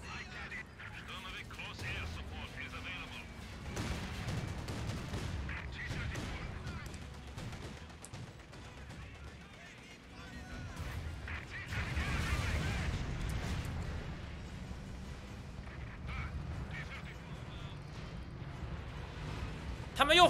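Artillery fire and explosions rumble through a battle in the video game Company of Heroes 2, with repeated booms and bursts of gunfire over a continuous low roar, while people talk over the din.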